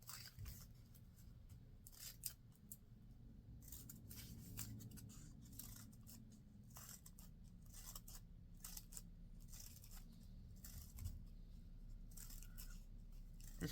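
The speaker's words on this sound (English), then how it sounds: "And then you're just going to cut small snips." Scissors cut small snips into paper while a folded paper hyacinth flower is made, giving quick, faint, irregular clicks up close in a quiet room.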